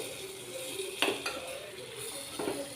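A spoon stirring mango curry with salt in a pan, soft scraping with a couple of light metallic clinks over a faint sizzle.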